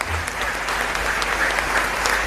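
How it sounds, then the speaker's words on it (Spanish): Congregation at a Sunday Mass in a parish church in Asunción breaks into steady, dense applause, many hands clapping together in a reverberant hall, holding an even loudness throughout with no voices over it. "Un fuerte aplauso."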